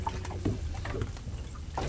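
A small fishing boat rocks gently on water, with soft low sloshing and faint creaks against the hull, steady and close.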